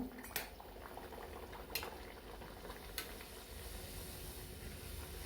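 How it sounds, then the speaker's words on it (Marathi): A wheat-flour tikhat puri fries in hot oil with a faint, steady bubbling hiss, and three brief utensil clinks stand out; quiet, with no talking. "आता आपलं तेल तापलेलं आहे आपण त्याच्यामध्ये पुरी सोडून घेऊया"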